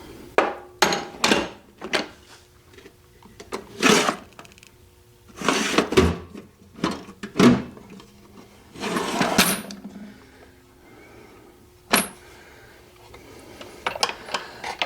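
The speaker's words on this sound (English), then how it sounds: "Brass hammer." A brass hammer strikes in a garage workshop, making a dozen or so sharp, close knocks at an irregular pace, with quieter clatter between the blows.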